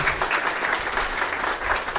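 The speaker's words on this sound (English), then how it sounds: "let's give a round of applause" Audience applause at the close of a Flutter developer conference workshop talk, a steady dense wash of many hands clapping at moderate loudness throughout, with no speech over it.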